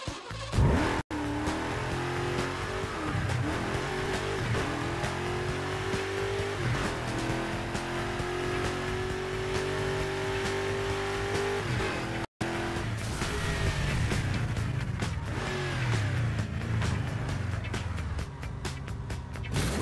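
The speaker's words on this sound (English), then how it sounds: "Hold the accelerator to fire up the engine." In the Burnout Paradise video game, a car engine starts and revs hard, rising and falling in pitch with tire squeals and skids, loud and continuous for about twenty seconds with a brief cut midway.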